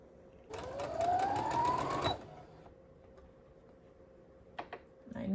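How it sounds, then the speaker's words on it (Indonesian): Sewing machine stitching quilt blocks runs in a steady, close whirring burst of about one and a half seconds with a rising motor whine, then stops, leaving quiet room tone and a couple of faint handling clicks. "Dan sekarang aku jahit dari sini ke sini ya."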